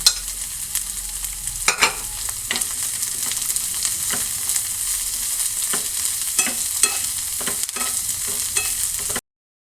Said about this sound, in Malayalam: അരിഞ്ഞു വെച്ച് ചെറിയ ഉള്ളി ഇതും നമ്മൾ ഇതിൽ വാട്ടണം എല്ലാം വാട്ടണം കേട്ടോ